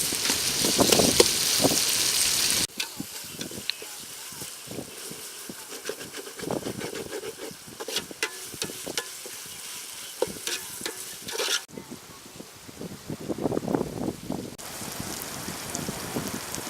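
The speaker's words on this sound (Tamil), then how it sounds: "கல் உப்பு வெங்காயம் நல்லா வதக்கிட்டேன்." Onions with rock salt being sautéed in a pan, a steady stirring and frying crackle with scraping strokes that continues throughout, louder in the opening seconds.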